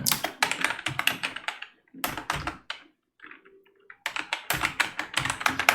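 Rapid bursts of close keystrokes as JavaScript code is typed on a computer keyboard, separated by a short pause in the middle.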